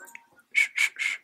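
Three breathy, whistle-like bursts in a row, each rising and falling, come after a short stretch of faint background. They are a clumsy attempt at whistling heard close up.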